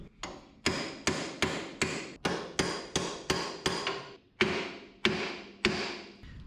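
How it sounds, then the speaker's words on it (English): Hammer blows on a chisel driven between parts of a Chevy square-body truck during a short bed conversion, about a dozen sharp metallic strikes in a steady rhythm, loud and close. "Maybe hammer on it."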